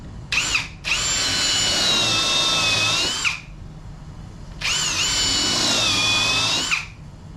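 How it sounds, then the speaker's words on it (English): A power drill bores pilot holes into wooden chair legs, whining loudly in three close bursts: a short one, then two sustained runs of about two and a half seconds each, separated by quiet pauses. "and then I'm going to drill my pilot holes."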